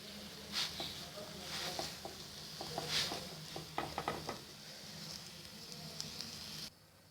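An egg paratha fries in a pan with a soft, faint sizzle, broken by occasional utensil scrapes and taps, while someone talks quietly.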